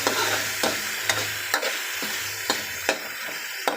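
Pork belly sautés with garlic, onion and tomato for pinakbet, a constant close sizzle punctuated by regular knocks and scrapes of a utensil against the pan as it is stirred.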